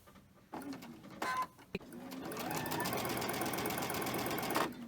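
A sewing machine stitches cotton fabric, its motor whirring in a fast, steady mechanical rattle that builds and runs continuously, preceded by a few short clicks and bursts as the needle starts.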